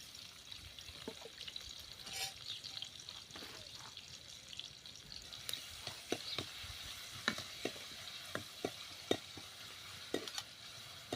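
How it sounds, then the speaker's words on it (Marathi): Finely chopped onion hitting hot oil for a street-style tandoori chicken masala, a quiet steady sizzle dotted with sharp crackling pops and scraping stirs that grow busier toward the end. "आता तेल गरम झालेलं आहे तेल तेलामध्ये आपण इथे बारीक कट केलेला कांदा घेतलेला आहे तो टाकून घेऊया"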